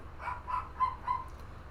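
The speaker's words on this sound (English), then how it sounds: "the barking dogs in the background is not being picked up" Dogs barking in the background during an online racing broadcast, four evenly spaced faint barks over a low steady hum, distant and muffled.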